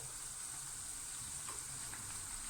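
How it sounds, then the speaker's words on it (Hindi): Sliced onions frying for crispy birista on medium flame give a faint, even sizzle, with only a slight hint of a spoon turning them. "इस तरह से हल्का हल्का हिलाते हुए पलटना होगा, ताकि चारों ओर से अच्छे से प्याज फ्राई हो"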